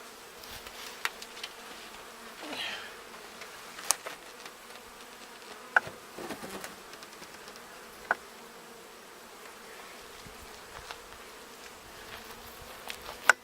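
Honeybees buzz around a strong, busy homestead hive, a soft, continuous swarm hum with scattered nearer passes and a few sharp clicks.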